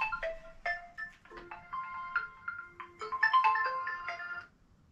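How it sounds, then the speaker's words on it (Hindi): A mobile phone ringtone plays a bright, melodic electronic tune of rising and falling tones, fairly close and clear, lasting several seconds before cutting off, with no talking over it. "मेरा फोन आ गया।"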